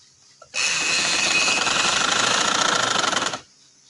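An electric sewing machine stitches elastic onto a drawstring trouser waistband, a loud, steady, fast needle rattle lasting about three seconds, starting and stopping abruptly, with no speech.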